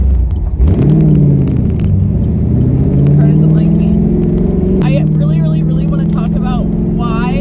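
A naturally aspirated Camaro driving, its deep engine drone running steadily throughout and rising in pitch as it climbs through the revs, with a voice talking over the rumble partway through.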